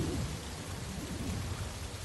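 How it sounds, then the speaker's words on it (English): Steady rain falling in freezing cold weather outdoors, a continuous even hiss of drops with a low rumble underneath, moderate and unbroken, with no voices. "To make matters worse, it just started raining."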